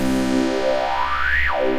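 A bass patch in the Massive software synth runs through a band reject filter, giving one sustained buzzy tone whose colour sweeps upward, then drops sharply near the end, loud and close with nothing else heard.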